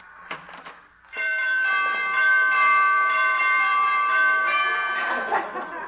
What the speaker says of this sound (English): She must have borrowed those door chimes from Carmen Miranda.